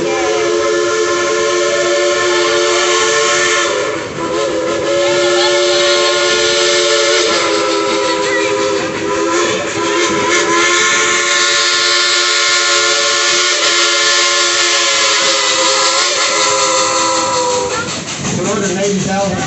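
A train ride with a long, steady, loud whistle sounding over the rumble of the rolling cars, continuous and close throughout, with some voices faint beneath it.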